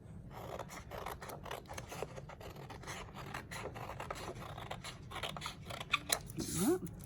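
Scissors snip through paper while a flip book is made, a steady series of short crisp cuts with rustling paper, ending in a couple of louder snips and a quick rising squeak.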